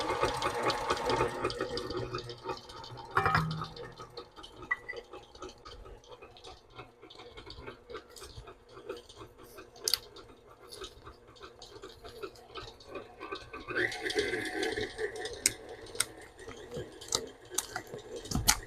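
An electric mixer beats cake batter for a flag cake in a bowl, giving a steady whirring rush with small clicks and scrapes. It is louder at the start and again near the end.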